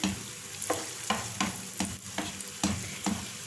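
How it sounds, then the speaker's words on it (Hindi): Finely diced small potato frying in a pan, a steady soft sizzle broken by repeated sharp scraping stirs of a spatula, about every half second, close and moderately quiet with no voices. "इसको 2-3 मिनट अच्छी तरह से फ्राई कर लेंगे।"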